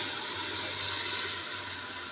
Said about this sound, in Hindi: अब इसके अंदर पानी डाल देती हूँ मैं,